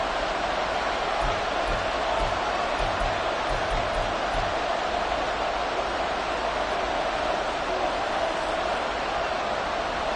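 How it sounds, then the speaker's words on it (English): Steady, dense roar of a football stadium crowd getting loud on third and long, a broad wash of noise that holds at the same level throughout with no break. "This crowd turning up the decibel level."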